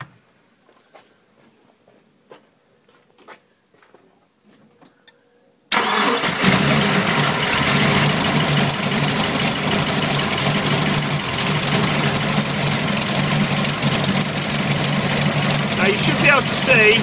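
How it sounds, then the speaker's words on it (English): A 1965 Ford Mustang fitted with electronic ignition is quiet at first with a few faint clicks, then its engine cranks and catches abruptly, settling into a loud, steady, slightly uneven idle that continues to the end. "So I'm just going to start the car."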